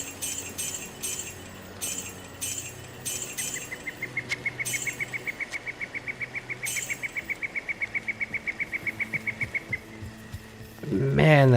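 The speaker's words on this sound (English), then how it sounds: "Man, that bird is loud." A bird in the Diablo 2 Resurrected video game calls in a long run of rapid, evenly spaced chirps, loud over an ambient game background with occasional chiming clinks, ending with a burst of other game noise.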